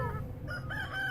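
Rooster crowing in a rising, warbling call with clear harmonics, heard at moderate distance over low ambient rumble, alone without talk.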